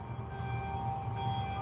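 A bell rings on a busy Manila street, a sustained tonal ringing held steady over low traffic rumble, moderately faint and without talk.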